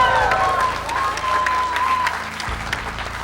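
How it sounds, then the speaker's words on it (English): A live audience at a fan panel event applauds and cheers for a guest, a dense, loud wash of clapping with a voice briefly audible over it. "can we please have a huge round of applause for Quinton Flynn?"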